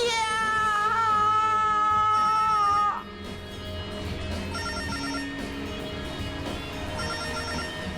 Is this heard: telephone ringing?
yes